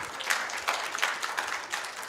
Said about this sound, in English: Can we give everyone who has contributed a big round of applause?